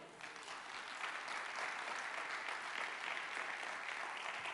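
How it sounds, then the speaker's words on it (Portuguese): A church congregation applauding during a sermon, steady broad clapping from a crowd, fairly distant and uniform throughout. "Dá um glória a Deus aí, aplaude ao Senhor."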